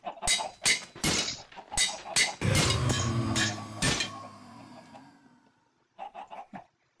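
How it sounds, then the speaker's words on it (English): Bursts of synthetic clucking from robot chickens in a modded video game, several quick calls in a row, then a short pause and a softer cluster of clucks at the end. "Got some robot chickens."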